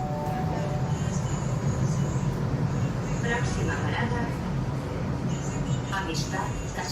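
Metro train in Valencia arriving at a station: a steady rumbling roar with faint squeals and clatter, continuous and moderately loud throughout.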